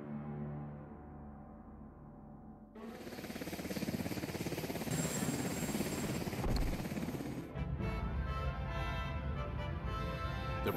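Presidential helicopter Nighthawk lifting off, its rotor and turbine noise swelling from a quieter start into a loud steady thudding roar close by, continuing without pause.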